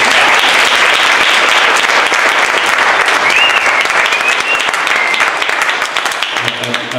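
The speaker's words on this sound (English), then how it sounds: "Give him a round of applause" Sustained audience applause at a Juneteenth event, dense steady clapping from a large crowd for the full stretch, tapering slightly near the end.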